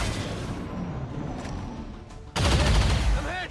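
Enemy gunfire in XCOM 2 erupts as a sudden loud burst of shots partway through, following a quieter stretch of game ambience with faint clicks, and rings on briefly afterward.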